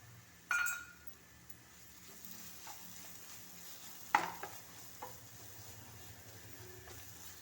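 A spoon stirs ground onion paste into chicken kurma masala in a pan, with a soft low sizzle and a few sharp metallic clinks against the pan, fairly quiet overall.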